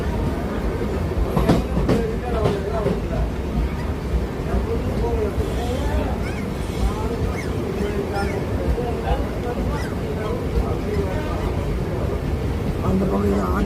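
A Chennai circular local train runs between Egmore and Central, making a steady, broadband rumble with faint clickety-clack throughout. It stays loud and continuous, with a voice talking underneath.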